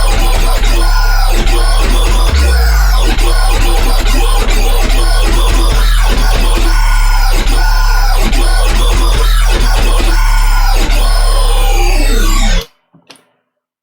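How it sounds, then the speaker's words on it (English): Comb growl synth patch built in Sytrus, a dense, gnarly bass with rhythmic wobbling formant sweeps and a deep low-end drop near the middle, loud and continuous for about twelve seconds before cutting off into silence. "today I'm going to show you how I made this sound"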